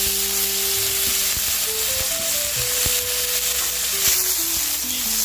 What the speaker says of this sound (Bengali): তো বিনস আর পেঁপেটা একটু ভেজে নেবো, কালো জিরা ফোড়ন দিয়ে নিলাম